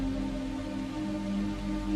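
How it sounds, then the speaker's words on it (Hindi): Rain falls steadily in the evening, a constant even hiss of drops on surfaces with a low hum underneath and no voices. "शाम होते होते बारिश कुछ कम हुई, पर पूरी तरह बंद नहीं हुई थी।"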